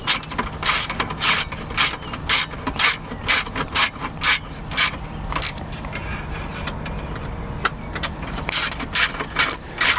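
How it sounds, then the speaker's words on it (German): A ratchet wrench clicking in quick bursts while tightening the rear screws of a Vespa GTS 300 scooter's luggage rack, the rhythmic metallic ratcheting repeating close up with short pauses, no voices. "dann die beiden hinteren Schrauben festziehen."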